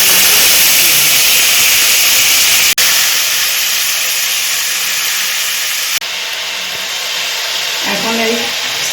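Chicken pieces going into hot white oil with cinnamon and torn bay leaf in a kadai make a loud, dense, continuous hiss. Two sharp clicks break the sizzle, and a short voice is heard near the end.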